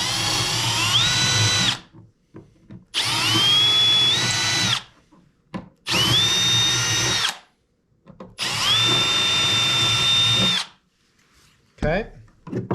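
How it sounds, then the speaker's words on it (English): Power drill boring through a part of a Baja Hobby L39 XXL 3.5 m model jet, drill bit matched to a 4-40 screw; four loud, sustained whining bursts with pitch rising as the motor spins up, separated by short pauses. "I'm going to drill through."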